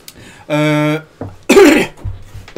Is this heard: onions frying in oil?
no